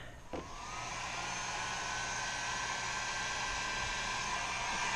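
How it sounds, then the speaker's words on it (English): A heat gun blows hot air for a kayak deck pad project, clicking on and then holding a loud, steady hissing whoosh with a faint whine throughout. "Now I take the heat gun again"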